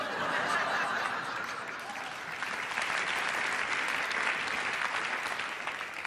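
Audience at a comedy club breaking into sustained applause, a dense, even wash of clapping mixed with scattered laughter lasting several seconds.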